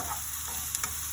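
Mozzarella meatballs in tomato sauce get stirred in a wok over a soft, steady sizzle, with two quick utensil clicks close together and no voices.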